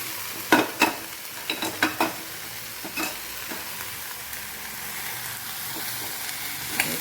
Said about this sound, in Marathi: छान परतून घेऊया गॅस कमी ठेवायचा आणि झाकण ठेवायचं नाही